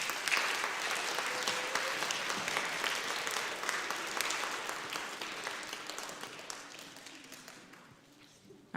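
A school awards audience applauds the students with loud, dense clapping that holds strong and then gradually fades toward the end.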